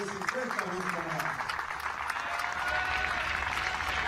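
Home crowd at a Chile v Canada rugby match in the 2018 Americas Rugby Championship applauds Canada's 37-year-old Ray Barkwell as he leads out his team. Steady, dense clapping fills a large stadium, with a commentator talking over it at first.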